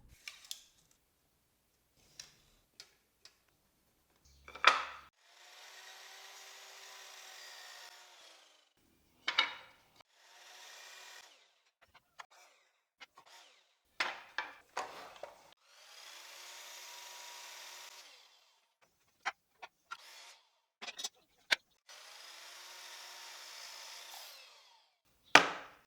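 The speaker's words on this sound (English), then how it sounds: "I will initially cut these 7 parts to 42 centimeters in length." Cedar wood scraps being cut to length in a quiet workshop: several separate bursts of steady, rasping cutting, each a few seconds long, with sharp knocks and clunks of the wood being handled between them and no talk.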